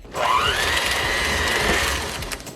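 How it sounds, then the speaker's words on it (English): Electric hand mixer creaming softened butter in a bowl, a loud steady motor whine that rises in pitch at the start and holds, with low thumping from the beaters, no talk. "Now I'm going to cream these together using my electric mixer."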